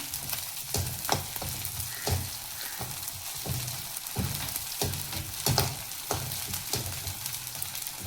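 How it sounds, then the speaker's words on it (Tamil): Onions sautéing in coconut oil with cumin seeds, a dense sizzle punctuated by repeated spatula scrapes and stirring taps at an irregular pace, close and steady, without speech. "இப்போ பாருங்கள், வெங்காயம் நல்லா வதங்கிடுச்சு"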